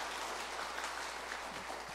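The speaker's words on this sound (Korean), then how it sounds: "우리 함께한 할렐루야 찬양대를 위해서 다시 한번 박수 한번 하겠습니다" At a Sunday worship service, a church congregation applauds the Hallelujah choir with a soft, steady wash of clapping that sounds fairly distant and carries on without a break.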